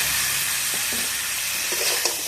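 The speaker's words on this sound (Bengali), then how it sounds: "এবার আমি কেটে রাখা ঝিঙেটা দিয়ে দেবো। ঝিঙে আলু এবার ভালোভাবে কষে নেব।" Sliced ridge gourd and potato sizzling loudly in oil in a pan, a steady frying hiss throughout with a few soft stirring scrapes.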